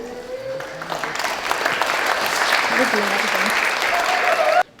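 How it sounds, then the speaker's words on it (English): An audience applauds a pre-K class at a school arts and language festival, steady clapping filling the room for several seconds with some voices and cheers mixed in, then cutting off abruptly. "a round of applause for our pre-K class"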